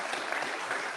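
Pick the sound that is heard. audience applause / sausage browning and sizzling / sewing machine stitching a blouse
audience applause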